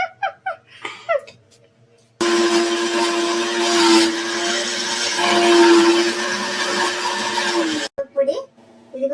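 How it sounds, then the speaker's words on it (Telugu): A mixer grinder grinds curry leaves and lentils into karivepaku powder, a loud, steady whirring roar lasting about six seconds, with brief talk just before and after. "మిక్సీలో మరి మిక్సీలోనే తీయాలి"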